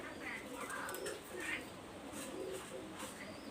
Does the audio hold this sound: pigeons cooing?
yes